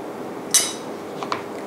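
A spoon scooping pineapple pie filling into cups gives one sharp metallic clink against a cup, followed by a couple of fainter taps, all close and quiet.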